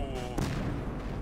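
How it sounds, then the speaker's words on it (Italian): Explosions rumble in the Battlefield Hardline video game, a burst of booming blasts and gunfire-like cracks with a sharp hit near the start and a rolling low tail, loud and close. "Che figata le esplosioni"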